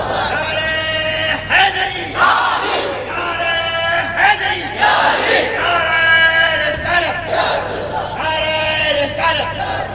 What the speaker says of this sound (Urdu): مولا علی کا نعرہ لگتا ہے نا تو الگ ہی ماحول بنتا ہے